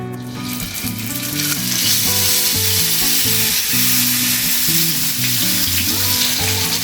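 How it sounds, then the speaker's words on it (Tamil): Stuffed pomfret fish frying in hot oil on a flat tawa, a loud, steady sizzle and crackle that rises as the fish meets the oil and keeps going without pause. "எண்ணெய் சூடாயிருச்சு. இப்போ மீனை போட்டுடலாம்."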